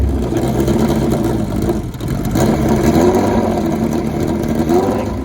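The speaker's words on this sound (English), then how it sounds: "So we claim that it's the world's fastest mini bike." A mini bike powered by a 1394 cc Kawasaki KZ engine with a race-prep head, rumbling loud and close at steady idle with a slight surge in the middle.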